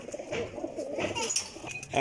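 Soft cooing of a highflyer pigeon, a high-quality round-tailed flying bird kept as a pair, close by with a steady low murmur and faint rustling across the short stretch.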